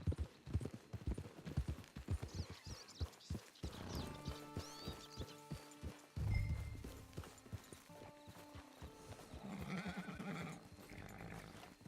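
Horse hooves clip-clop in the video game Red Dead Online, a rhythmic clopping walk near at hand with a whinny and snort partway through, over a soft musical score.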